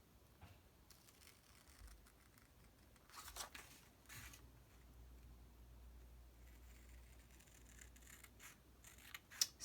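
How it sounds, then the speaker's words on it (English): Scissors cutting along the fold line of a paper bag give a few soft snips and paper rustles, close and very quiet, with no talking. "I'm cutting on my fold line."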